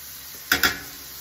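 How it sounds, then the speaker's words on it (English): In a pan of chicken and mushrooms, a soft steady sizzle runs under two sharp close clinks of a utensil hitting the pan, followed by faint stirring. "At this time, we're going to add in a little bit of garlic."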